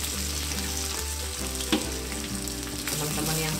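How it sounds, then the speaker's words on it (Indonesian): Petai (stink beans) sizzling and frying steadily in a pan as they are stirred into nasi goreng, with a continuous crackling hiss, one sharper clatter of the utensil partway through, no talking. "Kita mau masukkan si petainya juga nih. Kita goreng-goreng dulu sebentar, tumis-tumis dulu"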